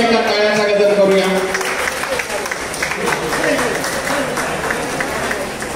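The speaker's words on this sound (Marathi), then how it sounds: "आपण सगळ्यांनी पुढे एका टाळ्यांचा गजर करूया" Audience at an entrepreneurs' guidance gathering in Kalyan East breaking into applause, a dense wash of clapping from many hands that fades gradually, with a voice speaking over the start.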